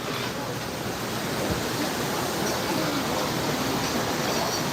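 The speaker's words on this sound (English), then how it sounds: "And a beautiful creek." Steady broadband rush of a creek flowing in the Smoky Mountains near Gatlinburg, a continuous close water hiss with no breaks and no voices.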